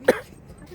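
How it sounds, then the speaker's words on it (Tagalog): A single short cough from an adult woman outdoors in a park on a cold day, one brief burst near the start followed by quiet background. "Sinusumpong ako ng ubo."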